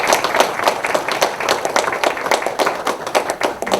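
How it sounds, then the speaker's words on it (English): An audience at a Red Ribbon Ceremony in Wallingford, Connecticut applauds to welcome a young presenter, brisk continuous clapping held at a steady level throughout. "Let's give her a round of applause."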